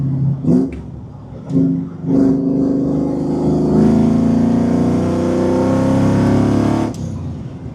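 Supercharged Ford Coyote V8 swap car with a TVS blower, pulling hard in fourth gear: a loud, sustained engine roar climbing steadily in pitch for several seconds after a few short revs, then cutting off abruptly near the end.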